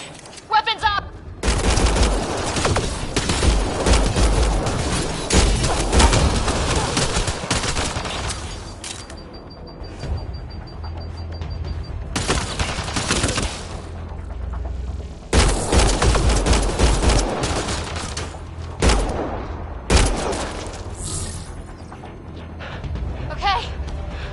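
A Mass Effect Andromeda firefight brings long bursts of rapid automatic gunfire and loud blasts, broken by short lulls, with voices calling out between the volleys.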